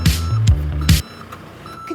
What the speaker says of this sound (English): That's the sound the road sweeper makes to warn everyone that it's reversing.